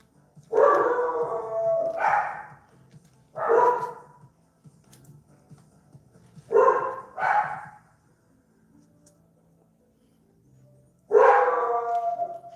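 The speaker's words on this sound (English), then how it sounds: "who knows what my dogs are barking at, their shadows, a squirrel." Pet dogs bark at home in close, loud bursts, often paired double barks with a yippy edge. Longer silent pauses separate the bursts.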